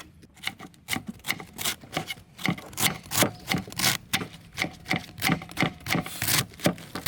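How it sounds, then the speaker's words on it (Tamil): Knife finely slicing cabbage for bonda, a steady run of crisp, rhythmic cutting strokes against a board, close and fairly loud with no talk. "இதே மாதிரி நைஸாக வெட்டிக்கணும்."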